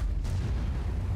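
A Ho-Ri 3 tank destroyer's cannon in a tank battle game goes off as one heavy, booming shot that rumbles low and steadily across the whole moment, with no talking over it.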